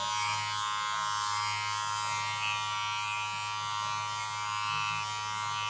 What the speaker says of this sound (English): on the other side, I'm going to work more clipper over comb